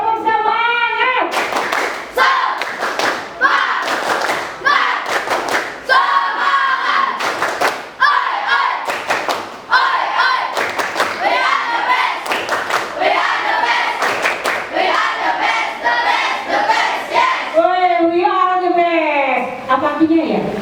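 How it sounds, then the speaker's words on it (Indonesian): A classroom of children does the rhythmic 'tepuk semangat' spirit clap, loud patterned bursts of group clapping alternating with chanted voices and a teacher speaking. "Bisa tepuk semangat?"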